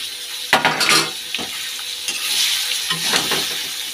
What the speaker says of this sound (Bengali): এখন কলাটা দিয়ে দিচ্ছি, তো ভেজে নেব কলাটা